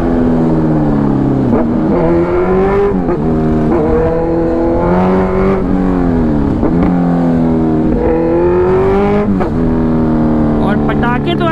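A Kawasaki Ninja H2R motorcycle revs hard and close, engine pitch rising and falling in repeated surges with sharp crackling backfire pops, loud and continuous.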